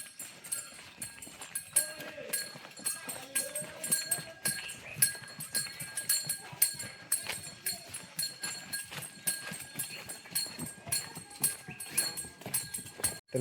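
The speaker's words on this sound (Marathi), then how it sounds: "तर मित्रांनो चाललेत घरी बैल." Bullocks walking home along a rural Konkan path, their hooves clopping in an irregular steady rhythm close by, with faint background hiss and no clear talk.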